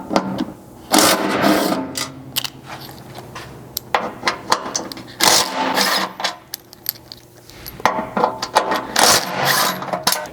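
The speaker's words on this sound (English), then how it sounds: "For that, you'll need a T40 Torx to go ahead and remove those." T40 Torx bolts being removed from a Chevy Colorado ZR2 skid plate: close, loud bursts of ratcheting and metallic clatter with clinks and knocks in irregular spurts, separated by quieter gaps.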